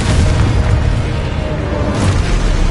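Confringo spell explosions in the video game Hogwarts Legacy sound as loud, booming bursts with dense low rumble, one swelling in at the start and another hitting near the end, alone with no talk.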